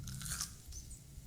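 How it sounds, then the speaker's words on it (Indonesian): Close, crisp crunching and chewing as someone bites into a crumb-coated fried homemade chicken nugget, several quick crackly bites without any talking. "Pertama aku nyobain yang nugget ala Kanzler dulu."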